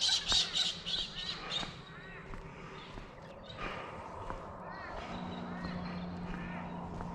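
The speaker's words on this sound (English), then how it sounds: "Laugh, Kookaburra, laugh." A kookaburra gives a raucous, squawking laughing call in the bush at sunrise near Bedford Weir, a loud rapid burst at the start that trails into quieter calls, with other birds and ambient outdoor sounds behind.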